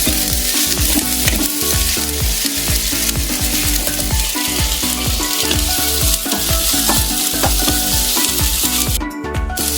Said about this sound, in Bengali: আদা রসুনটা দিয়েও আবার একটু ভাজবো।